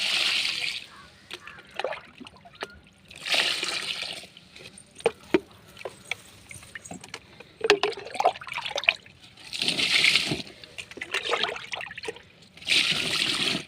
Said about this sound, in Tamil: இதை அப்படியே கொண்டு போய் செடிகளுக்கு ஊற்றிடலாம்